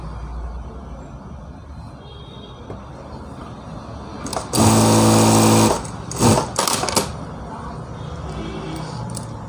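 A sewing machine stitches a blouse lining in one loud burst of about a second, then two shorter runs, with quiet pauses between while the fabric is handled.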